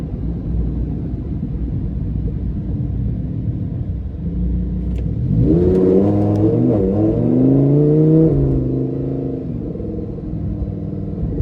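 A 2015 Lamborghini Huracan LP610-4 engine idles with a low rumble, then revs hard and accelerates, its pitch climbing loudly before settling back to a steady drone.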